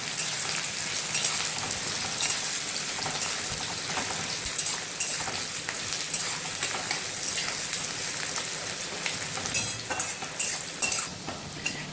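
Onions frying in hot oil in a pan for a Bengali chicken curry, giving a steady dense sizzle with scattered crackles and occasional spoon stirring, close and continuous throughout.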